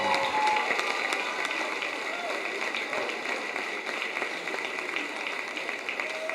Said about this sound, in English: Let's give one more round of applause for your homecoming royalty